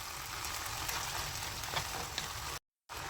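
Pork with green beans, minced garlic and soy sauce sizzles steadily in a hot pan, a dense, close crackling hiss without speech that cuts out abruptly for a brief moment near the end before resuming.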